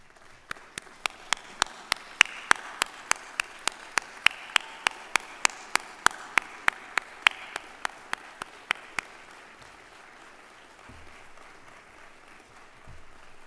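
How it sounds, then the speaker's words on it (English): At a university graduation ceremony, slow, evenly spaced loud claps ring out one by one in a rhythmic series over a faint crowd murmur, then stop, leaving quiet room noise and low rustling. "I would like you to stand up and give them all a round of applause"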